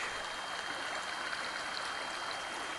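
Creek flowing beside a campsite on the Appalachian Trail in Virginia, a faint, steady rushing and trickle of water with no voices.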